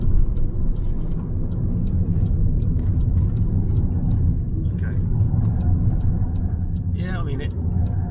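A BYD Dolphin Surf car is driven hard around a roundabout, giving a loud, steady road rumble and drone from start to finish, with a brief rising squeal near the end.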